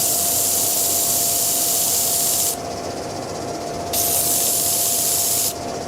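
A wooden turning being sanded flat, heard as a loud steady rushing hiss that cuts back twice to a quieter tone and then returns, close up with no talking.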